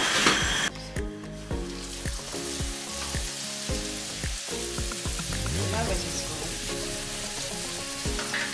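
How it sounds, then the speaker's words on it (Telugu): Papads sizzle in hot oil as they fry, a close, dense crackling hiss broken by sharp clinks and scrapes from a utensil against the pan. "హీట్ అయిన తర్వాత మనం ఆ అప్పడాలని మనం వేయించుకోవాలి దూరగా."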